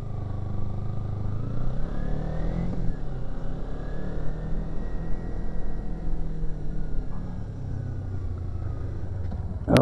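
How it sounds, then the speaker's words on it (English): A motorcycle engine hums and revs steadily while riding, a continuous low rumble with slight rises in pitch, fairly close with wind noise around it. "the bike is feeling so much more broken in. I just rev it and it doesn't hesitate at all."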